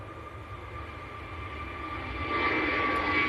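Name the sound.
jet aircraft at Manchester Airport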